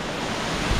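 Strong wind roaring at Ellenborough Falls, a waterfall in New South Wales, Australia, heard as a steady broadband rush that buffets the microphone, loud and continuous with a low rumble.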